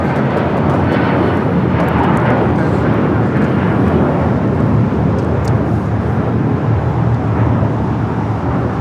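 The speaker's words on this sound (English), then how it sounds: "United Airlines 1069 taking off to Chicago on the 757-300" A United Airlines Boeing 757-300 taking off from LAX, a loud, steady broadband jet engine roar filling the whole stretch, close and sustained without breaks.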